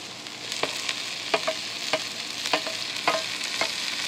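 Onions cooked to light golden brown sizzle steadily in a pan, while a utensil stirs them with regular scraping taps every half second or so, close and clear with no talking.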